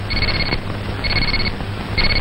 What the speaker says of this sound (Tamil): நம்ம சந்திக்க காரணமா இருந்த அலாரம்